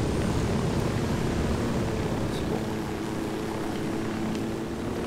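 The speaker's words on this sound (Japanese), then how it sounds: "ヘリを使って効率的に行こうね。 俺が操縦する。" A helicopter in flight in Ghost Recon Wildlands, its steady, loud engine and rotor drone filling the whole stretch without letting up.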